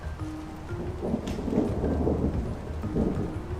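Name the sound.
thunder during a rainstorm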